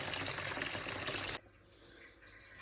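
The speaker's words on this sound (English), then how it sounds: "fill up this side bowl with some water" Tap water pours into a small side bowl in a kitchen while green juice is being made. A steady, close splashing rush runs for over a second, then stops abruptly, leaving quiet room tone.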